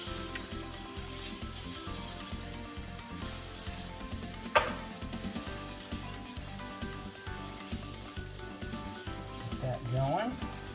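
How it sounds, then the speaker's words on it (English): Butter sizzles in a pan of roux made with oil and steak drippings, a steady close frying hiss with light stirring scrapes and one sharp clink midway, no one talking. "Make a little roux. I'm gonna throw some butter in there too"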